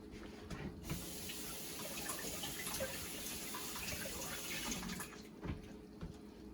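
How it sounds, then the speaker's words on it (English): Cold tap water runs steadily over an onion in a kitchen sink, a continuous close splashing hiss with a brief break partway through. "run this under a little cold water first before you start cutting"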